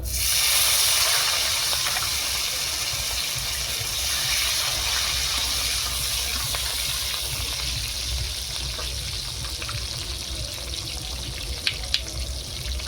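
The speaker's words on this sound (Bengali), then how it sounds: "মাছ ভাজার তেলে ক্যাপসিকাম কুচি দিয়ে দিচ্ছি" Chopped capsicum sizzles in leftover fish-frying oil, making a steady, close hiss that starts loud and settles into continuous frying for several seconds, with a couple of brief clicks near the end.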